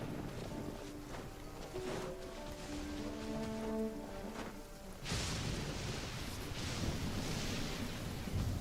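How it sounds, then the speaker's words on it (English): A rainy thunderstorm in the video game Genshin Impact, where soft melodic game notes give way to a sudden, steady wash of rain that stays loud and continuous to the end. "Thunder and storm."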